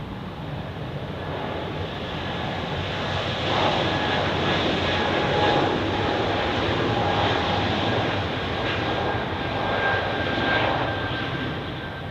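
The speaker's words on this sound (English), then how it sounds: "I think the Helvetic Embraer should be ready for takeoff now." A Helvetic Embraer jet takes off at Zurich Airport, a broad sustained engine roar that swells and holds steady at a distance, with no voices.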